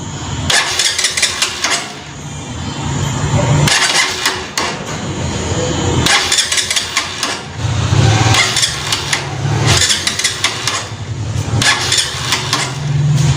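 A motorcycle that has run out of fuel cranks repeatedly in close, loud bursts, its engine catching briefly and sputtering without settling into a steady run.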